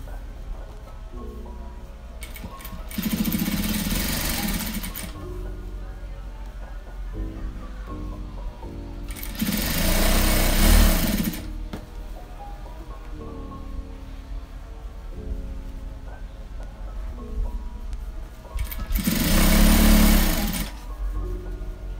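A sewing machine runs a straight seam on a cloth diaper in three separate bursts of rapid stitching, each lasting about two seconds, with quieter pauses in between and no talking.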